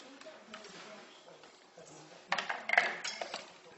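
A whisk stirring cheesecake batter for a fromage blanc tart in a bowl, with soft scraping that builds into a quick run of bright metallic clinks against the bowl partway through.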